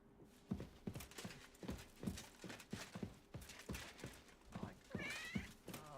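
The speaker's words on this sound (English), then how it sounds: "I heard a kitty sound." A cat meowing in a video game, one short rising meow near the end over a steady rhythm of clopping footsteps.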